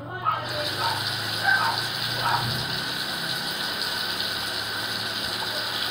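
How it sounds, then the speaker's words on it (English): Hot water gushing from a tap, starting abruptly with a squeaky turn of the handle, then a steady loud rushing stream that continues unbroken for several seconds. "So you want to turn the hot water on and wait 5 Mississippis."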